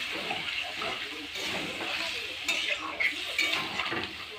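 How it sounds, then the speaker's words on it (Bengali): Water is poured into a pot of cauliflower curry with a soft, steady splash and trickle, broken by a few light metallic clinks of the pot. "এবার আমি এখানে অ্যাড করে দিতে চলেছি জল দিয়ে দেবো পরিমাণ মতো।"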